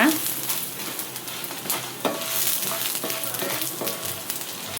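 Coriander, cumin and fenugreek seeds frying in oil over a low flame, a steady close sizzle with occasional scraping stirs throughout.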